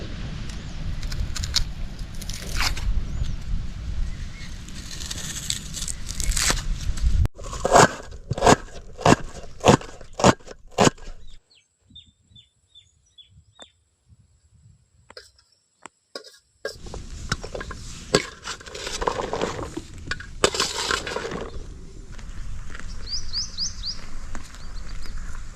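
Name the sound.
cutting onions with a knife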